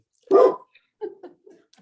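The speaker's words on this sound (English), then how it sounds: "Mayor, that dog's out of order." A single dog barks once sharply up close, then gives a few softer yips and whimpers inside a quiet council meeting room.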